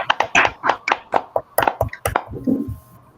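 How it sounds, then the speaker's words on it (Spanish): A few people clap close by, likely remotely over an online session, in a quick, slightly uneven burst of distinct handclaps that slows and fades out after a few seconds. "Un aplauso a la distancia"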